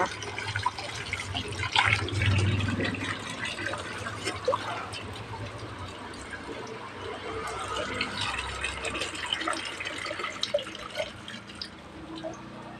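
Water running from an outdoor tap on a newly plumbed line, a steady splashing, trickling flow that continues throughout, with faint talk in the background.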